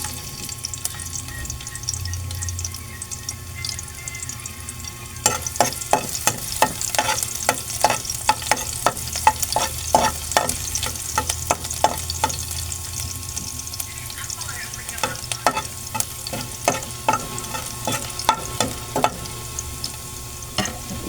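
Garlic frying in cooking oil for ginisang sayote, a quiet sizzle at first that turns into a busy, crackling spatter with rapid pops and stirring clatter, steady and close throughout, with no talk.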